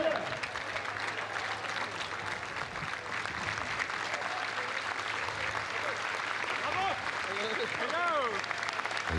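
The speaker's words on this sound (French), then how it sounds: "Il y a des bravos même avant la projection du film" Applause and bravos from the audience in the theatre at the Cannes 2024 red carpet steps for Furiosa: A Mad Max Saga, a sustained distant roar of clapping and crowd noise, with a high whistle-like tone rising and falling near the end.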